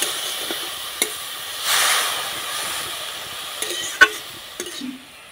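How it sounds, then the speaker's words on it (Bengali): Sugar and a little water being stirred in a pan for sweet modak filling, with a soft, steady hiss of heating liquid and a few sharp spoon taps against the pan. "এবার আমি নাড়াচাড়া করে পুরটা তৈরি করে নেব।"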